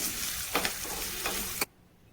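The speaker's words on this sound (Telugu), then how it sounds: "కొద్దిగా కరివేపాకు, ఎండుమిరపకాయను కూడా వేసుకొని మొత్తం కూడా ఫ్రై అయ్యే వరకు కలుపుకోవాలి" Curry leaves and dried red chillies crackle in hot oil for a tempering with asafoetida, a dense steady sizzle with a couple of stirring clicks that cuts off abruptly near the end.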